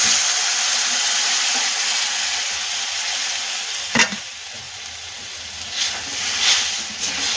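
A glass of water goes into a pan of well-fried masala for an egg curry, setting off a loud, steady sizzling hiss that fades after a sharp clatter and a few stirring scrapes.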